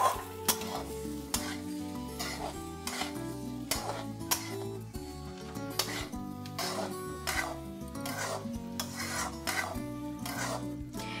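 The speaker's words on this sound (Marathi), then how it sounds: "आता इथे मी शिजवलेला तांदूळ घेतलेला आहे, हा मी 1/2 किलो घेतलेला आहे, तो आपण त्यात घालूया. मिक्स करून घ्यायचं आहे." Cooked rice being stirred into egg bhurji in a pan for street-style fried rice, with rhythmic repeated scraping and clanking strokes of a spatula over a dense background of music or clatter.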